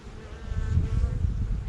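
Honeybees from a colony living in a tree trunk give off a close, steady buzzing hum with no voices over it.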